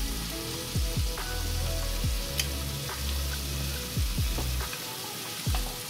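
Minced meat with turmeric, ginger and coriander frying in a pan crackles and sizzles steadily, with repeated scraping thumps of stirring over the constant hiss, close and without talk.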